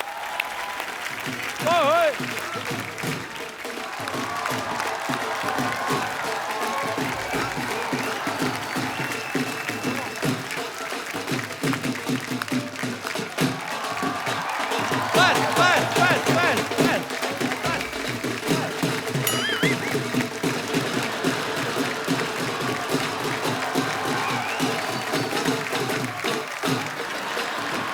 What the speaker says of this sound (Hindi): उसके लिए पहले तो जोरदार तालियां।